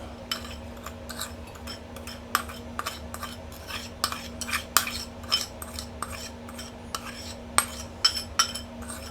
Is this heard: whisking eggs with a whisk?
yes